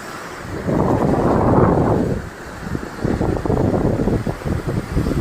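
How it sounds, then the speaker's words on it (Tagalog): Strong typhoon wind, from Typhoon Nika under signal number 4 in Isabela, Philippines, roars in gusts, swelling loudly for a couple of seconds, easing, then buffeting again in rough bursts against the microphone. "makikita nyo yung hangin, pagbugso ng hangin."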